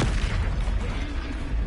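A Confringo fire spell explodes in Hogwarts Legacy on PS4, a heavy booming burst with a deep low rumble that carries on for the whole short moment, loud and close.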